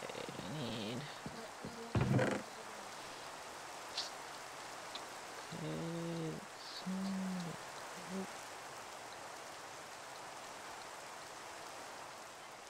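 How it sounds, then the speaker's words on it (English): Steady rain in Minecraft Skyfactory 3 makes a continuous hiss throughout, with a few brief game sounds popping out over it. "Oh, finally the deafening rain stopped."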